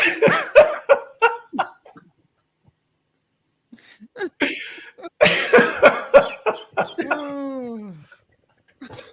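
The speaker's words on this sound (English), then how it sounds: "the cough was still coming" Several sharp, loud coughs burst out close by, then a pause, then another coughing fit followed by a descending whistle-like sound.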